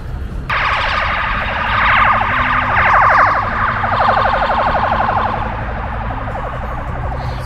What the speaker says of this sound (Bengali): এখানে অ্যাম্বুলেন্স গেলে তো